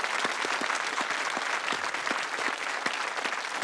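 A small audience claps steadily throughout, an even patter of many hands with no voices standing out.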